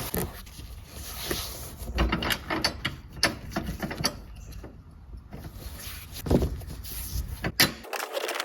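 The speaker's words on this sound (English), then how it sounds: "Now I use my ratchet. Finish that off." Hand ratchet tightening a bolt on the air bag crash sensor cover of a Nissan, steady close clicking with uneven strokes running for several seconds, no talking.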